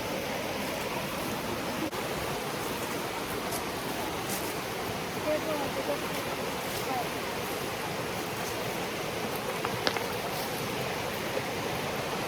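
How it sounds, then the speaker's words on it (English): A rainforest creek flows over rocks at Finch Hatton Gorge, making a continuous broadband rush of water that is steady and even throughout, with only faint scattered clicks on top. "Dong Dong, look at the creek, Dong Dong."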